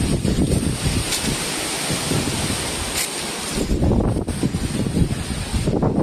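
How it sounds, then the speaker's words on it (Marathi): Strong gusts of wind buffet the microphone over a steady roar of driving monsoon rain in Phondaghat, Konkan, surging and easing in turbulent waves. "वादळी पाऊस ह्याला म्हणतात, वादळी पाऊस"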